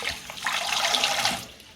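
Jasmine long grain rice rinsed under running kitchen water, a close, steady splash and gurgle of the stream hitting grains in a bowl, fairly soft and lasting under two seconds.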